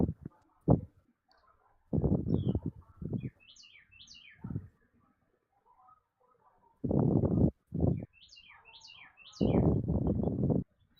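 Small birds chirp outdoors, with faint, brief high tweets in two short clusters, mostly in the gaps between bursts of nearby talking.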